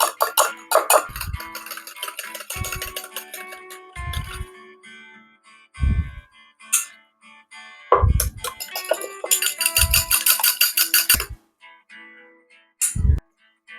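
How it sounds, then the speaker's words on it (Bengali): Eggs seasoned with salt and ground black pepper are beaten in a bowl, sharp rhythmic clinking strokes coming in close, loud bursts separated by short pauses, with no talking. "এবারে ভালো করে ফেটিয়ে নিতে হবে।"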